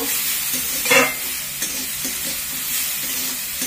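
Prawns coated with salt and turmeric frying in hot oil, a steady close sizzle with a few louder bursts of spatter as they are stirred, and no talking.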